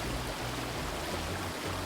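A cold mountain stream in Ladakh at high altitude, rushing steadily and fairly close, with a constant broadband wash and no speech over the short stretch.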